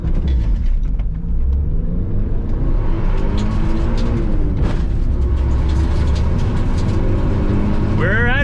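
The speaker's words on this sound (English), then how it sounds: "Mitsubishi Eclipse GSX top speed test," A Mitsubishi Eclipse GSX engine drones loudly from inside the cabin as the car accelerates hard on a top speed run, with heavy low rumble, rising engine tone and wind and road noise throughout.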